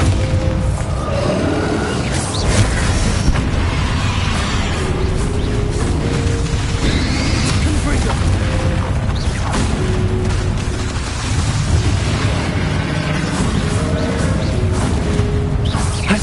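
Explosive Bombarda spell blasts in the Hogwarts Legacy video game, a dense, loud run of booms, crashes and whooshes that layers over game music and effects without a break.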